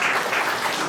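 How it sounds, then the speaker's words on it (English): Brief burst of audience applause at a motivational talk on facing failure, a dense wash of clapping heard mid-stream, loud and even with no voices over it. "Give her a round of applause"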